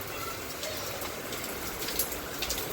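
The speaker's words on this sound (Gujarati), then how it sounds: "જોરદાર વરસાદ આવે ગાઈસ, આગાહી વિના." Heavy rain pours down steadily and close by, a dense continuous hiss with scattered louder drop spatters, no voices over it.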